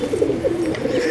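Pigeons coo in a pigeon loft, low throaty calls rolling on continuously and close by with no talk.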